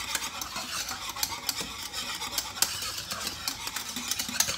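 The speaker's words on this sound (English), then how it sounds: "stir my condensed milk in the mixture" Steady spoon-against-pot stirring as condensed milk is mixed into Puerto Rican coquito off the stove, a continuous close scraping swish with small regular clinks throughout.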